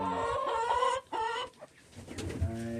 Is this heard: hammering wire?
no